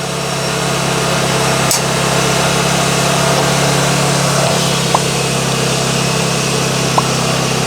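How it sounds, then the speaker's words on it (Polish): A refrigerant recovery unit runs during an air-conditioning service in a mobile service van, giving a steady, loud mechanical hum with a constant low drone and occasional faint clicks. "Agregat na razie daje radę, nic się nie dzieje, maszyna pracuje."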